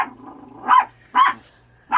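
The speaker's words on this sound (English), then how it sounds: "Forgive the barking, please." A dog barks indoors inside an RV, sounding three loud, separate bark bursts spaced about half a second apart, close to the listener, with no talking.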